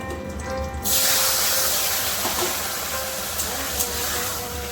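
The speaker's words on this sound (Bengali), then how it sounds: "এবারে সেদ্ধ করে রাখা লাউটা ঢেলে দেবো" Boiled bottle gourd is tipped into a hot pan on a home stove, setting off a sudden loud, steady sizzling hiss that continues evenly after a quieter start.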